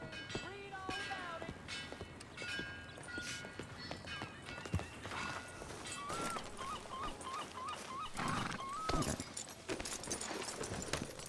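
Hooves clop steadily in a galloping rhythm under people talking, with a horse whinny and occasional chirps in the background, in Red Dead Redemption 2.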